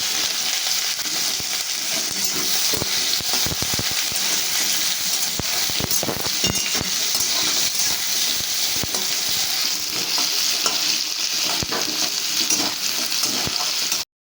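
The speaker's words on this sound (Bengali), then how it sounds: "ফোড়নে দিয়ে দিচ্ছি শুকনো লঙ্কা আর কালো জিরে ফোড়ন। দিয়ে দিচ্ছি কিছুটা কুচনো পেঁয়াজ।" Chopped onion frying in oil in a kadai with dried red chili and nigella seeds gives a loud, steady sizzle. Crackles, spatters and stirring scrapes are scattered through it. No talking is heard.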